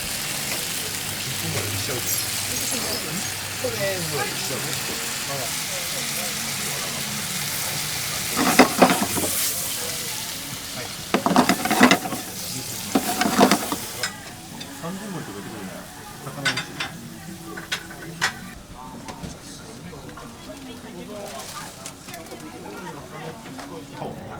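Stir-frying in a busy restaurant kitchen serving grilled beef tongue and Miyagi dishes, a steady broadband sizzle with bursts of louder tossing and clattering midway, talk heard over it.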